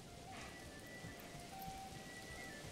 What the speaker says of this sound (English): It gets rainy like this